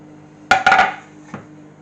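A spoon clinks and scrapes against a pan as cheese is stirred into hot sauce taken off the heat for macaroni cheese, giving three quick close metallic knocks and then one softer tap, with no talking.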